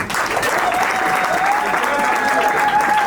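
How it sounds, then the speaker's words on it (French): Sustained applause from guests at a civil wedding ceremony, loud and steady with a faint voice audible underneath. "On applaudit pour le succès."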